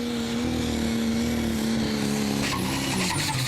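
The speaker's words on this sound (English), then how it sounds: "Getting dragged down there, the turbo stalling just at the end of the run" A loud, steady engine roar from a prostock pulling tractor at a tractor pulling event in Brande, Denmark, with a deep droning tone and a higher turbo whine rising near the end as the turbo stalls.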